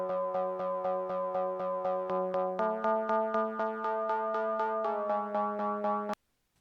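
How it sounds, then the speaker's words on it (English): A PPG synth bass plays alone, a bouncy repeated pluck pattern of rapid even notes that steps up in pitch twice before cutting off abruptly into silence. "So by itself, this PPG sound sounds like this"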